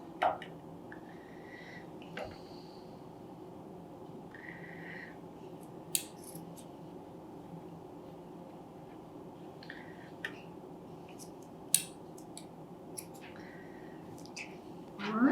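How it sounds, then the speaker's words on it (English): Scissors cut macramé cord in a quiet room, a few soft, separate snips and clicks spread out over a low background hush. "Do you want to use my scissors?"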